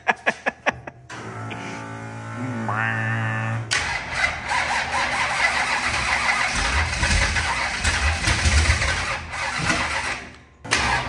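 A rebuilt 25-year-old race motor clicks a few times, cranks briefly, then catches and roars into a loud, rough, steady run that lasts several seconds before dipping and picking up again, with no talking.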